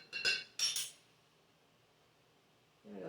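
A metal fork clinks against a mixing bowl while cheesy bacon muffin batter is stirred: two quick bright clatters close together at the start, a quiet pause, then a softer scrape near the end.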